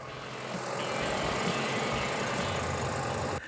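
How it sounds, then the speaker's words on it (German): A John Deere tractor on a small ranch runs with a steady, rough engine drone that holds close and even for a few seconds. "Der Traktor ihrer kleinen Ranch kann zwar nicht mit den Rennboliden mithalten"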